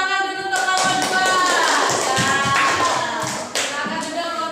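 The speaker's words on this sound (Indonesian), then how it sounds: "Tepuk tangan dulu untuk kelompok 2." A classroom of students applauds group 2, a dense burst of close clapping and tapping lasting several seconds before thinning out.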